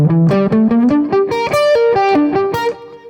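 Electric guitar through a distortion effect plays a fast, continuous run of picked notes in a G Dorian shred lick, loud and close, stepping up and down in pitch without pause and with no voice over it.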